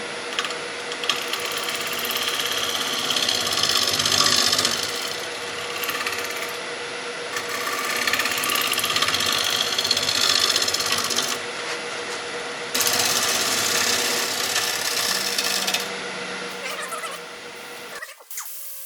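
Steady mechanical whirring and grinding of a power tool trimming and sanding wood, running in long continuous stretches with brief dips, ending abruptly.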